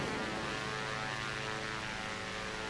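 Aircraft engine in the X-Plane 11 flight simulator game, a faint steady propeller drone with a humming tone holding evenly throughout, no speech.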